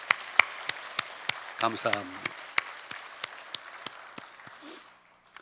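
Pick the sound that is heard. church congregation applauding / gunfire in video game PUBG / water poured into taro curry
church congregation applauding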